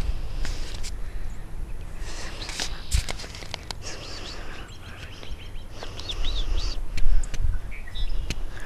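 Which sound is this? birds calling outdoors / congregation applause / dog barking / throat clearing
birds calling outdoors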